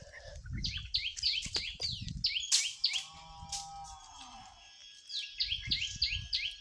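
Sparrows chirp in a cowboy video game, with bursts of rapid repeated tweets that pause and return alongside a few lower calls and soft rustling thumps.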